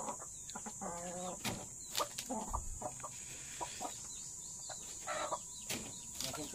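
Chickens clucking outdoors on a farm, several short clucks and calls in an irregular pattern, close and moderately loud over a steady background hiss, with a few sharp taps among them.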